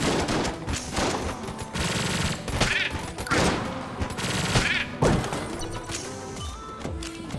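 Rapid gunfire in the Enter the Gungeon video game, loud dense bursts of fast shots in several clusters separated by short gaps, with impacts and crashes mixed in and no talking.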